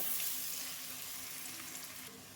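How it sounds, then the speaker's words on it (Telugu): Onions fry in oil with ginger garlic paste as the base of a Hyderabad restaurant-style green chicken curry; the sizzle is a constant, moderately loud hiss that fades slightly over the clip, with no talking. "ఉల్లిగడ్డలు అనేది ఇట్లా ఫ్రై కావాలి"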